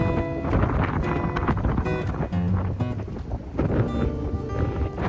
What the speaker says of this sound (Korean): 비바람이 점점 거세집니다.